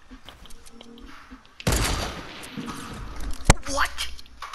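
Gunfire in a Fortnite match erupts in a loud burst of shots, with a sharp crack near the end standing out over the noise, while players talk around it.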